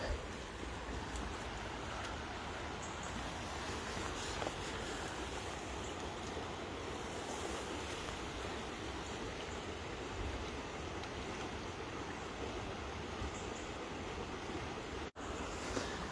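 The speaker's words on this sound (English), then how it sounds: "Let's just listen to this, the water." Water flowing steadily in a park stream during a nature walk near a footbridge, a constant close rushing wash that fills the whole stretch without pause, with a brief dropout near the end.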